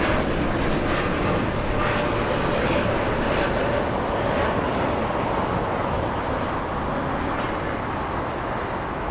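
An Emirates A380 airliner taxis at Los Angeles International Airport, its engines giving a loud, steady roar that holds nearly unchanged for several seconds before easing slightly at the end.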